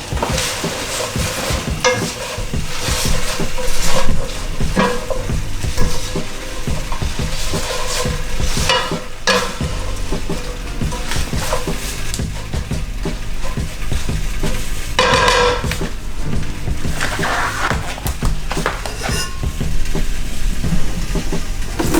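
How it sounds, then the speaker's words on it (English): Steady sizzling and frying of vegetables with paprika and garlic in a pan, with scraping strokes from stirring scattered through, loud and close, running continuously the whole time under a musical tonal layer. "And stir all of that."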